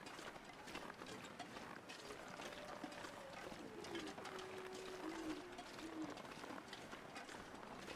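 Owls hooting in the wintry wilderness of the survival game The Long Dark, soft repeated calls drifting at a distance over a steady wash of wind.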